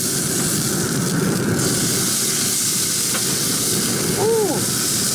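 Bacon-wrapped brats sear on a grill in a loud, continuous, close sizzle and hiss, with no voices and a brief squeaky scrape near the end.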